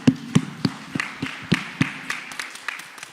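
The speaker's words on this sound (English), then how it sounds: "a round of applause for the organizers and Forbes" Sparse applause for the organizers at a wealth-management panel event: a small number of distinct, evenly spaced claps, close and fairly crisp, with no voices.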